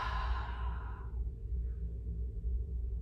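A long, soft exhale of breath during a home yoga flow, fading out after about a second into quiet room tone.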